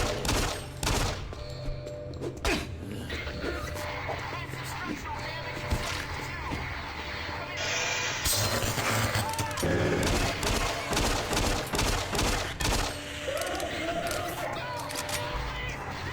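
Repeated gunfire bursts in the shooter game Doom 3, loud and rhythmic, with rapid volleys layered over game sounds and a voice talking at times.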